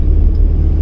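Road traffic in the city of Fatehabad rolls past as a steady low rumble of engines and tyres, loud and continuous with no voices.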